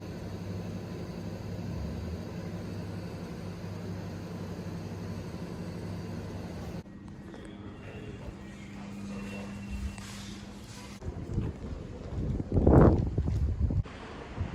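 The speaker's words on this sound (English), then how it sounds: "It's a little bit windy" Wind buffets the microphone outdoors in London in a constant low rumble, easing briefly before a louder gust near the end.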